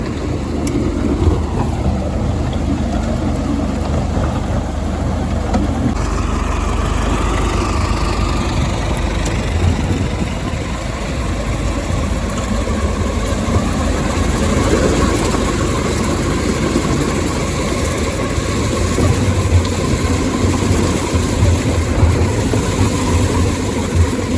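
A loud, steady mechanical drone of a combine harvester threshing grain continuously, with a low engine rumble and rattling threshing noise, no voices.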